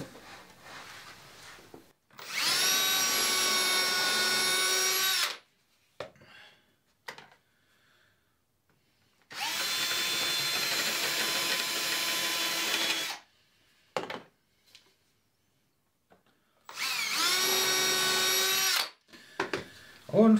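A power drill drives screws into wooden boards while building a homemade mini golf course, three long steady whirring bursts, loud and close, separated by short pauses with small handling knocks.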